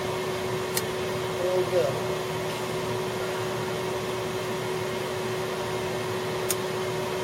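An engine runs at a steady, even drone throughout, with a faint mechanical whine. Someone speaks briefly near the start, and there are a few small knocks and clicks nearby.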